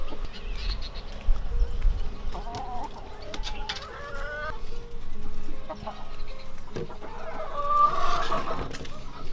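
Backyard chickens cluck and murmur nearby in a garden coop, with a run of clucks and a louder rising squawk toward the end over faint outdoor ambience.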